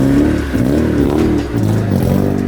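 A Honda DC2 with a K24/20 engine swap being driven, its engine droning steadily up close with the pitch rising and falling as the revs change, and no voices.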